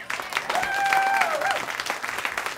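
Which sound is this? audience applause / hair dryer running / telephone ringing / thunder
audience applause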